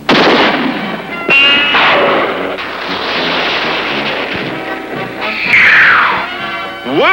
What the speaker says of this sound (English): When I fire this pistol, cut the rope, Bubba.